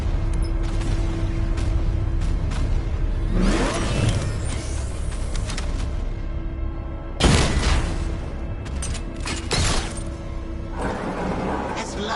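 Explosions rock Ace Chemicals in Batman: Arkham Knight on PS4, with loud, broad roaring blasts bursting out around the middle and again later, over a constant rumbling mechanical din with sharp clanks between.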